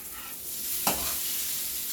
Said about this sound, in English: So we are going to brown this sausage on as brown as you can get it.